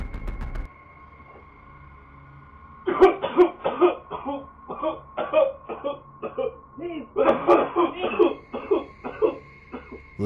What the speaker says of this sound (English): Ali starts coughing uncontrollably like he's choking